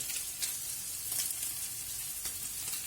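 Oil and tomato paste sizzle steadily in a frying pan, a dense continuous hiss with a few brief crackling spikes, close and even throughout with no talking.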